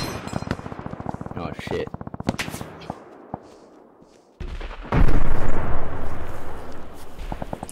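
Video game combat: bursts of rapid gunfire crackle in fast rhythmic volleys, fading out, then a loud heavy blast erupts and rumbles on, with a player swearing briefly over the shooting.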